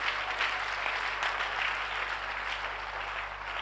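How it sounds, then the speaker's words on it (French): Church congregation clapping in acclaim of the Lord Jesus during a Sunday worship service, a steady dense wash of applause sustained throughout with no pauses, fairly loud and filling the room. "Acclamons le Seigneur Jésus."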